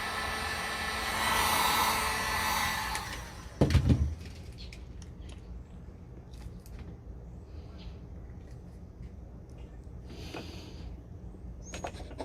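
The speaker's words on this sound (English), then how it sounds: "So heat gun, little Harbor Freight, just heat it up a little bit." Small Harbor Freight heat gun warming a roof pump fitting, blowing with a hair-dryer-like whoosh for about three seconds before switching off, followed by a knock and quieter handling noises.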